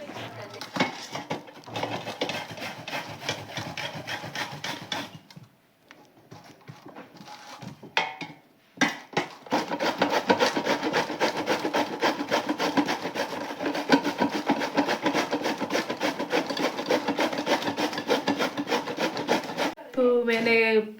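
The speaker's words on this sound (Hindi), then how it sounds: "तो मैंने थोड़ा सा गाजर कद्दूकस कर दिया" Carrots rubbed against a hand grater for gajar ka halwa, a steady rasping scrape with rapid repeated strokes, pausing briefly around the middle before continuing loud and close.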